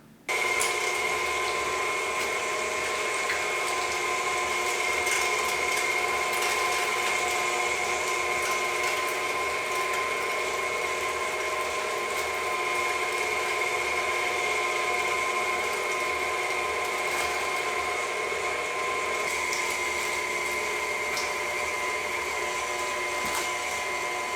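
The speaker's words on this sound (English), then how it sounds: "Now we can process it through our KitchenAid quinoa meat grinder." A KitchenAid stand mixer meat grinder attachment grinds chilled, slightly frosted pork butt, about 11 pounds for homemade andouille sausage, producing a steady, loud motor whine that runs unbroken throughout with no talking.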